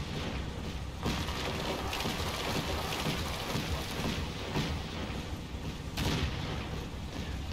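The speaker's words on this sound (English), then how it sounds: "The panzers lay down area fire." Panzers lay down area fire in the WWII strategy game Combat Mission, a faint, continuous crackle of distant gunfire and rumbling bursts with no talk.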